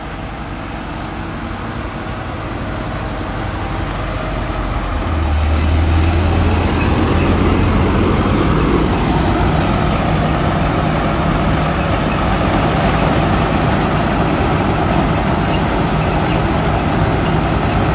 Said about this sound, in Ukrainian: Моторчик шепче, не димить нічого.